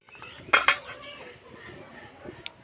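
A metal lid lifted off a kadai while aashke pithe cook, giving a sharp pair of clanks close by, then quiet kitchen noise and one more light clink near the end.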